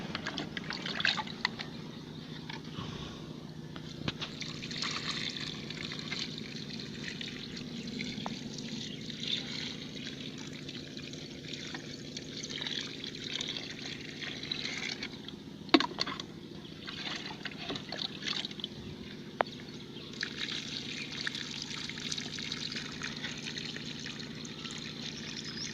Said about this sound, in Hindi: तो अभी मैं इसको पानी देता हूँ।